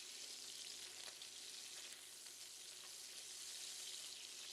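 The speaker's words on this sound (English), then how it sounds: "Flip them to the other side and cook for 30 seconds or until just cooked" Prawns frying in a pan for stir-fried kuey teow, just flipped to the other side: a steady, faint hissing sizzle with a few soft pops, continuous and without talk.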